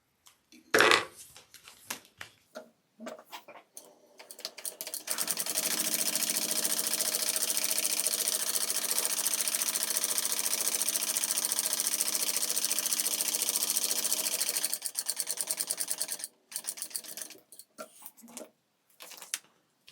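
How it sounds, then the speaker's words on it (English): A sewing machine top stitches a fabric bag in one long, even run of about ten seconds, loud and close, framed by short clicks and handling sounds before and after. "Now I'm going to do another row of top stitching, just 1/8 of an inch away from the edge on each side."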